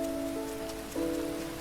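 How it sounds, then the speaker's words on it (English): Steady rain hiss in a video game, set in a mines level, continuous and fairly loud, with sustained tonal music notes layered over it and no talking. "I am genuinely worried though about this rain that we're getting."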